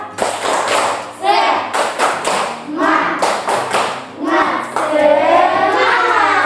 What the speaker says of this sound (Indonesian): mari sama-sama kita tepuk semangat terlebih dahulu